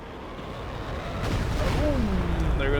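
An artillery barrage in Company of Heroes 2 falls on a German Panzer headquarters, a deep rumbling roar that swells partway through, with faint voices over it.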